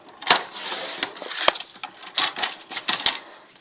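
Patterned craft paper being cut down to size for a lace holder mini book, with a run of crisp, close snipping and slicing bursts in an irregular rhythm, loud and with no one talking.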